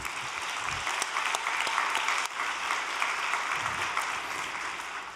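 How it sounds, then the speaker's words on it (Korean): A gathered audience claps in thanks for people offering devotion in the rain outside a detention center, steady dense applause that carries on evenly with a brief dip midway. "이 궂은 날씨에 정성 들이시는 분을 위해서 감사의 박수 부탁드립니다"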